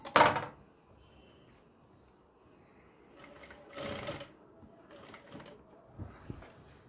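A sewing machine stitches a frock in short runs, a close buzzing whir lasting about a second at a time, separated by quiet pauses and a sharp handling knock at the start.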